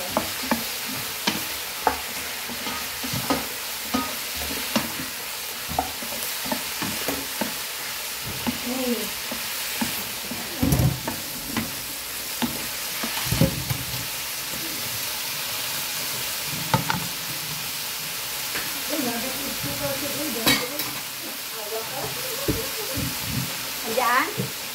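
Pork fries until crispy in a pan for dinuguan, a continuous close sizzle broken by frequent scraping and clattering stirs.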